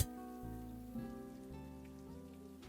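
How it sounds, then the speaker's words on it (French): Rain falling on a house roof as role-play ambience, a soft steady patter under faint background music tones, with no voices. "Juste la pluie"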